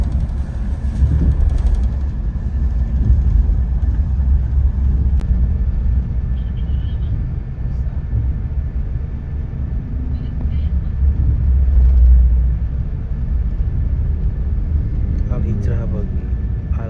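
A Duta Agam intercity bus racing along the Padang–Jakarta route, heard from inside as a continuous heavy low rumble of engine and road noise, steady and loud, with faint voices now and then.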